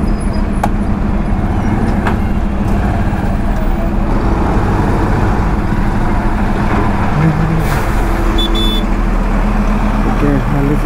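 Dense, heavy road traffic beside road construction works, a constant loud roar of engines and horns with a generator running nearby and occasional brake hiss, steady throughout with no pauses.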